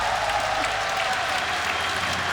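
A large crowd claps steadily and continuously at the Rainbow Six Pro League Finals esports event, a dense, loud wash of applause filling the arena.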